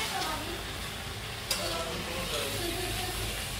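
Meat cooking in a pan for a special Pohela Boishakh meal, a steady close sizzle with occasional stirring and one sharp clack partway through, with no talking.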